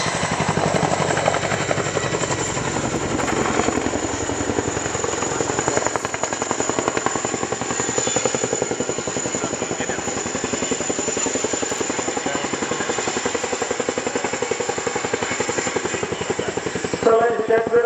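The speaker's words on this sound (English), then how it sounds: "The aircraft will now come to a hover in front of you." A Chinook helicopter hovers at the RIAT 2016 Fairford airshow, its twin rotors producing a loud, steady, rapid thudding beat that persists throughout, with a public-address announcer talking over it.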